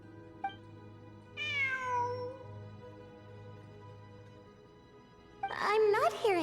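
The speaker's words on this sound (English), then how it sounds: "I'm not hearing things. It really is a cat." Cat meowing in Genshin Impact: a short quiet click, then a drawn-out falling meow, a pause with soft background hum, and a second louder, wavering meow near the end.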